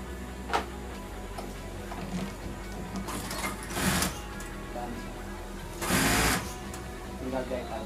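A sewing machine stitches a pillowcase, the needle running in short mechanical bursts separated by quieter pauses, close and fairly loud against a faint background.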